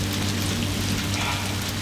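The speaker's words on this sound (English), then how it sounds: "All right, it's officially starting to hail." Hail pelts down in a Texas storm with tornado warnings, giving a dense, continuous patter of hard impacts that fills the space loudly and evenly throughout.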